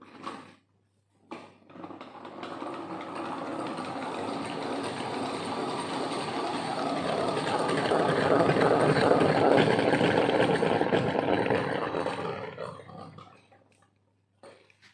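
A honey extractor spinning, a steady mechanical whirring drone that starts abruptly, swells louder in the middle, then winds down and stops.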